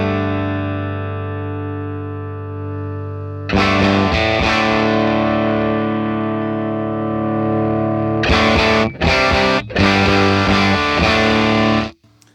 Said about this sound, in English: you can hear the amp is really starting to break up